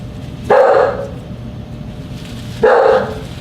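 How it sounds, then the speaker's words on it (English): Small house dogs let out two loud, sharp barks a couple of seconds apart, close by, over a low background hum. "Don't mind my dogs, they like to yap."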